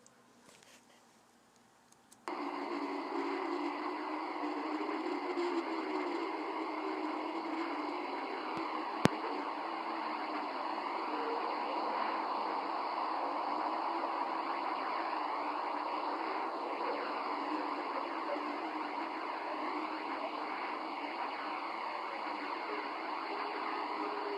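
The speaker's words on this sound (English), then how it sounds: "So this is the sound of Earth." A steady, continuous hissing drone with a whistling, whooshing texture, unchanging for over twenty seconds after a brief quieter start.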